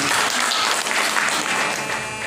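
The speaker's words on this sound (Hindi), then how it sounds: "जोरदार ताली होना चाहिए समाज सेवा के लिए" A crowd at a social service event claps loudly. The applause is dense and steady and fills the whole moment with no voices over it.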